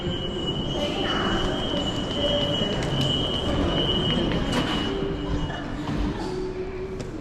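A train rolls past with a steady rumble, a high metallic wheel squeal ringing over it, and faint voices mixed into the noise.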